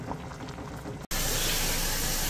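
Plantain leaves boil in a pot of water with a steady bubbling hiss, which breaks for a moment and returns as a louder, fuller rush.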